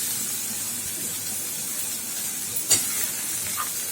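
Onion and vegetables sautéing with salt in a pan, a soft continuous sizzle and hiss close by with one brief sharp clink of a utensil, no talking.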